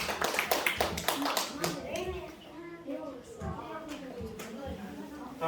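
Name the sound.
children clapping, applause for God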